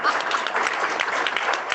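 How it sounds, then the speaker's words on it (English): Applause at a Kiwanis Club of Roanoke meeting, a dense, continuous clatter of many hands clapping at close range, with a voice mixed in beneath. "Now you may applaud."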